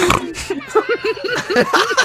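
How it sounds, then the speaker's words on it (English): A person snorting in a rapid run of short, nasal, pig-like grunts, several bursts in quick succession, close and fairly loud. "Did you just snort?"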